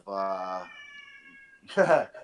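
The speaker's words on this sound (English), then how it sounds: "I know that cat's voice" A cat gives a clear, drawn-out meow, then after a pause a harsher second call that is close and loud, with no speech around it.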